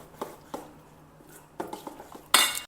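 A spoon scrapes and clinks against a pan while batter with jaggery syrup is mixed, giving a few sharp knocks spread over a couple of seconds and then a louder rattling scrape at the end.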